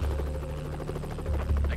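A helicopter flies close overhead, giving a loud, steady rotor drone with a pulsing low throb that continues through the whole clip.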